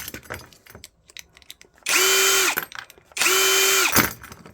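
A power drill pulls screws out of cast aluminum scrap in two sharp, loud whirring bursts, each winding down in pitch, with quieter clinks and handling noises between them.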